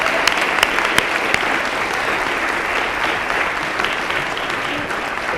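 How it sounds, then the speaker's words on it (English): A large audience at the Mayor Bowser 2016 State of the District Address applauds Akila, dense, steady crowd clapping with a few sharp claps standing out, continuing evenly throughout. "Give her a big round of applause."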